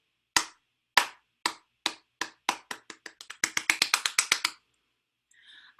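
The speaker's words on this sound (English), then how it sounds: "I could change the tempo, which means the speed of my clapping. I could start very slow and get faster" Bare hand claps, alone and close, starting as slow, evenly spaced single claps and steadily speeding up into a quick run of about twenty claps before stopping, followed by a faint brief rustle.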